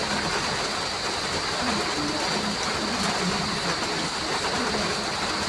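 Heavy rain on a rainy day, a dense, steady hiss of downpour that stays constant throughout, with faint low background noise.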